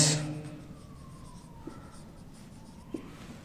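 A pen writes out the given statement of a class ten circle geometry problem, producing faint, soft scratching strokes on paper against a quiet background.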